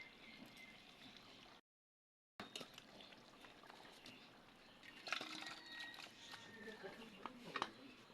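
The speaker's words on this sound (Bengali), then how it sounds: "এবার ঢেলে নিব" Cooked jackfruit and potato curry is poured out of the pot with soft, wet sloshing and trickling sounds that turn into gurgles and clinks near the end, while someone talks quietly over it.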